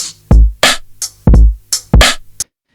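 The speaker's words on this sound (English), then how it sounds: "So I tried a bunch of different drum samples to go along with this one" Punchy drum samples from a Splice drum pack, played on a Roland SP-404: a loud, swung loop of about six hits over two and a half seconds, deep booming kicks alternating with bright cracking snares, with no talking.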